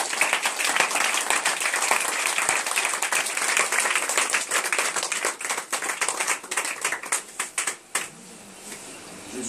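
A church congregation applauds loudly and steadily for Jesus, dense clapping with some cheering that thins into scattered claps near the end.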